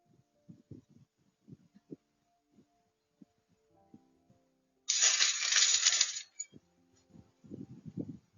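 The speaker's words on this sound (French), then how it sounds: "je vais y ajouter la carte SD" SD card going into a Wolfang WT04 trail camera: a string of quiet small clicks and taps, then a bright scraping slide of about a second, followed by a few more close plastic fumbling sounds.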